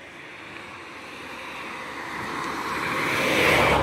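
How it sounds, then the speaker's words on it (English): Sunday-morning road traffic near a riverside stroll in Unterwildenau: a steady broadband rush of passing cars that swells as a vehicle approaches and grows louder toward the end. "Too much traffic for a Sunday morning."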